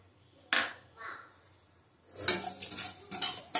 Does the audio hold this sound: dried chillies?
yes